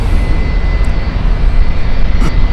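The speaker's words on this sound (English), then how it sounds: "Middle Eastern Airlines Airbus A330, this one 200." A 2009 Middle East Airlines Airbus A330-200 jet airliner at Heathrow Airport gives a loud, continuous engine rumble and rush that holds steady from start to finish, alone without talk.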